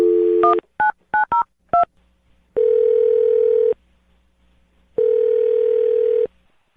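A telephone line gives a quick string of DTMF keypad beeps as a number is dialed, followed by two long, steady ringback tones separated by silence, clear and close.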